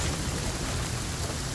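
Rain in the survival game The Flame in the Flood pours as a dense, steady hiss, loud and close for the whole moment, with no voices.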